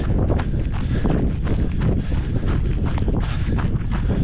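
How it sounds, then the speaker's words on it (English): Heavy gusts buffet the microphone during an outdoor run on a cold day, a constant loud roar and rumble with no speech over it. "As you can hear, there's a lot of wind"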